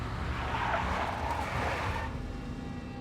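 A big black Mercedes skids in the Max Payne video game, a loud, close tire squeal over a broad engine roar that holds steady for a few seconds before easing off, with no voices.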